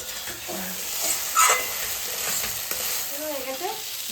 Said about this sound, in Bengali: এবার আমি বড়া গুঁড়ো দিয়ে দেবো এটাকে কষিয়ে নিয়ে জল দিয়ে দেবো